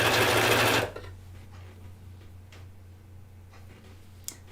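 A sewing machine driven by a foot pedal, sewing a cardigan, whirs loudly for under a second and then stops, leaving a low hum and a few faint ticks.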